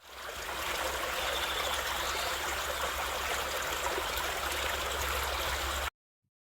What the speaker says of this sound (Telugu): మన ఫారెస్ట్‌లోకి వాటర్ వచ్చేసాయి